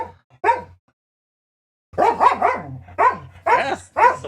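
A dog barks while lying down, giving one short bark, a pause, then a rapid run of loud, close barks in quick bursts.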